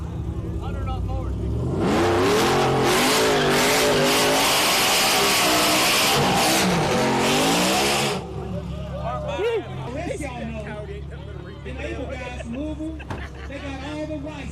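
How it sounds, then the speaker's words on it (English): A supercharged all-wheel-drive Ford F-150 and an Eagle Talon launch at a drag race, one engine roaring loudly for several seconds as it revs and accelerates, then fading to idling and crowd noise with people talking. "Looks like we got a supercharged F-150 all-wheel drive car and an Eagle Talon first pair"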